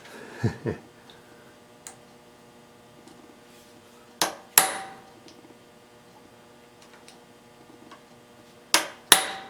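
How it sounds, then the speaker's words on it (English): A metal punch struck against a rivet during a repair of a mislocated hole: a handful of sharp, ringing metallic hammer blows, some doubled, separated by quiet pauses. "putting the punch about halfway on the rivet"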